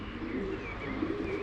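Homing pigeons arriving at a loft coo softly in a brief, faint, low burble close by.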